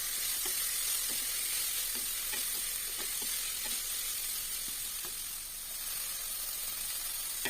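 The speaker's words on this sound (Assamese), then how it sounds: "এতিয়া ফুলকবি কেইটুকুৰা দি হাতেৰে ধুনীয়াকৈ লৰাই দিছোঁ" Cauliflower pieces fry in a pan while being stirred by hand, giving a steady, dense sizzle throughout with soft, scattered scraping clicks from the stirring.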